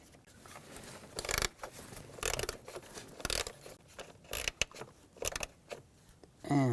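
Small nut threaded by hand onto an ignition coil bracket on a 2006-2010 BMW 550i 4.8L V8, heard as close, irregular metallic clicks, scrapes and ratchety rattles in bursts with a brief whir at the end.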